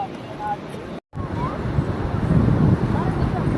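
Sea water rushes up the beach in a broad, rising wash of surf mixed with wind buffeting the microphone, with a brief dropout early on and people's voices nearby.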